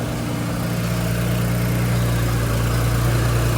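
A Nissan Z with upgraded turbos idles steadily at a drag racing event, a low, constant rumble and hum, no revving, close by.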